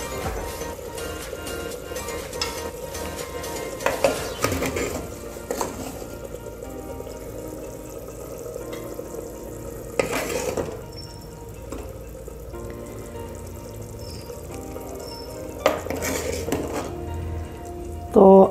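Dove korma is dished from a pot onto a plate in a home kitchen, with scattered clinks of spoon against metal and dishes and a soft running-water hiss, while someone talks.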